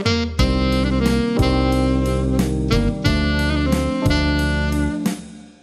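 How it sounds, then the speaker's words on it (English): A jazz melody phrase embellished with turns, played on a keyboard instrument as a string of clear, loud, evenly spaced notes over sustained low tones, with no talking. "And so this phrase with the turns added in sounds like this."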